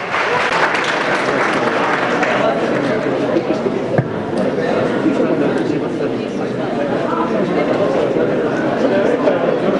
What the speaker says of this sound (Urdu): کلیپ ہو جائے کامل جان صاحب کے لیے, تالیاں